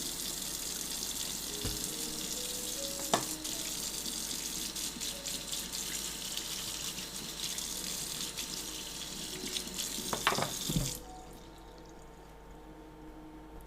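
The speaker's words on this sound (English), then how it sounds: "I'm gonna do some dishes while we wait." Dishes washed under a running kitchen tap, a steady rush of water with occasional clinks and knocks of dishware, ending as the water shuts off near the close.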